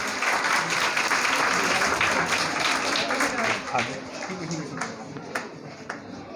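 A school audience claps loudly and steadily as a young student is called up for a medal at an award ceremony, dense applause that tapers off toward the end.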